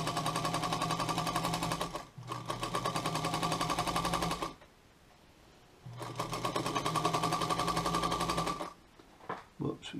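A white Singer Featherweight sewing machine stitches through two layers of white fabric, its needle hammering in a fast, steady, close rhythm in two bursts separated by a pause, with a few faint clicks at the end.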